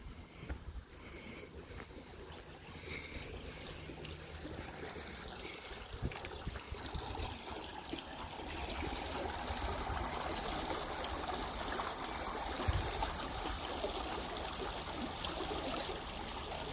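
Irrigation water runs across a farm field in Magdalena Cuayucatepec in a steady, broad rushing and trickling that grows slightly louder over time, with no talking.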